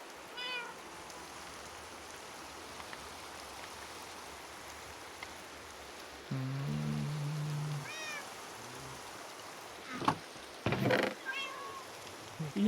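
A house cat meows a few times nearby against steady rain-like background noise, with a brief low hum partway through and some bumps near the end.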